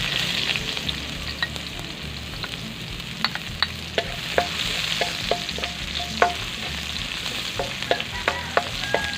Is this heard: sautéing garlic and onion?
yes